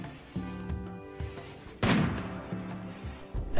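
A sniper rifle shot in RimWorld rings out as one loud, sharp crack midway, with a few fainter pops around it against quiet game ambience.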